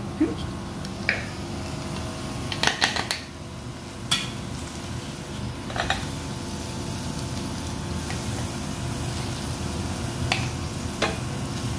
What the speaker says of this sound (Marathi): आता आपण हा कॉर्न घालून घेऊया.